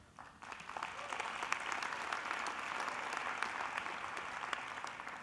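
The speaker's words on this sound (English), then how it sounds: "I got to tell you, I love all this applause" Applause from a gala audience at a digital ball, dense, sustained clapping that swells after a quiet start and carries on evenly, heard from within a large room.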